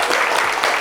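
Studio audience at a French TV show breaking into applause, a dense continuous clapping wash throughout the short moment.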